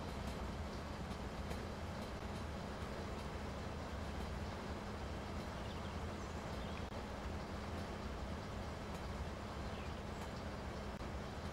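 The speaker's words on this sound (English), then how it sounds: "we got a local tanker train leaving Vancouver Yard filled with Acetone, probably for Aberdeen port." Local tanker train loaded with acetone rolling out of Vancouver Yard in the Train Sim Pro USA game, a steady, loud, continuous rumble and rail noise with faint clicks, no talk.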